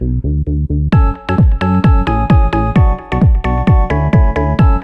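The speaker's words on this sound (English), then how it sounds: "So that together with the bass and the organ playing the bass notes" House-style chord stabs pulse in a steady groove over punchy bass notes, with an organ-like tone filling in after the first second.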